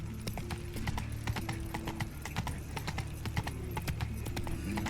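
Roach the horse gallops in The Witcher 3, hooves clip-clopping in a quick, steady rhythm at moderate distance, with a brief whinny-like tone and faint background game ambience.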